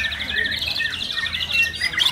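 A white-rumped shama (murai batu) songbird sings in a rapid run of bright, high warbles and trills, close and continuous over a low background hum.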